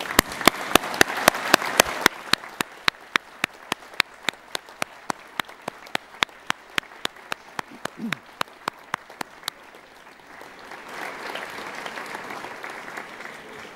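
At a Swinburne graduation ceremony, the crowd's applause rises and fades, broken by a regular series of sharp, evenly spaced clicks, before a softer wash of clapping returns near the end.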